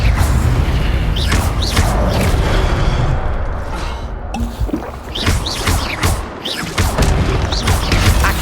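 Incendio fire spell effects in the Hogwarts Legacy video game, a series of loud whooshing bursts and crashing booms in quick succession, with roaring flame noise between impacts.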